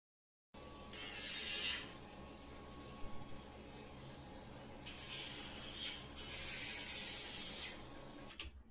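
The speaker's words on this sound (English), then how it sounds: "I just file down their nails" Dog's nails being filed down during a home grooming session, heard as intermittent bursts of close, scratchy rasping separated by quieter pauses over a low background hum.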